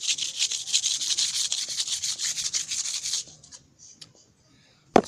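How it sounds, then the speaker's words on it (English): Scraping across the surface of a Tom and Jerry DVD: a close, steady run of rapid gritty rubbing strokes for about three seconds, then near silence and one sharp knock at the end. "First, let's scratch with this. Yeah, you can see a lot of scratches on it."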